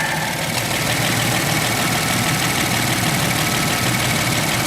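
A Ford F-150 pickup's engine idles steadily, a continuous loud rumble with a slight knocking texture and no voices over it.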